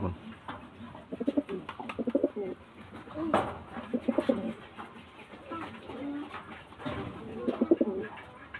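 Pigeons coo in soft repeated rolling phrases at close range, including a male bird released from the hand among young birds, while people talk over and between the calls.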